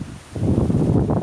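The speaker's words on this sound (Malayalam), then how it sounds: "നല്ല കാറ്റുണ്ട്, നല്ല സുഖമുണ്ട്, ചെറിയ വെയിലും നല്ല കാറ്റും." Wind blowing at an outdoor campground with RV sites, a brief loud rushing gust buffeting the microphone, rising after a short lull.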